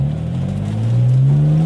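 A Porsche Boxster engine idles steadily with its old throttle position sensor refitted, a smooth close hum whose pitch rises slightly partway through, with no voices over it.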